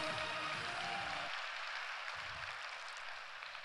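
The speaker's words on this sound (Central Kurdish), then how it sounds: "چەپڵەکانتان بۆ ڕەوەند ئاکۆ." Audience applause at the Rwanga Awards 2018 ceremony for a software development award winner: steady, fairly faint clapping from a crowd that continues throughout without any speech.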